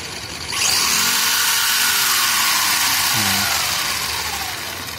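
A 1:12 scale Hot Wheels roll cage replica RC car spins its wheels on the stand, its motor winding up to a loud steady whir with pitch sweeps, then easing off slightly.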